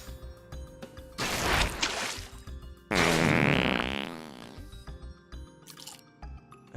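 Two long, loud, wet-sounding fart noises, the second one bigger and longer, come over a steady background of music during a livestream.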